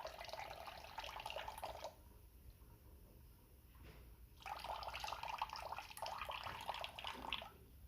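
An aquarium filter sponge is squeezed out in a container of water during planted tank maintenance, giving soft trickling and splashing in two bursts with a quiet pause between.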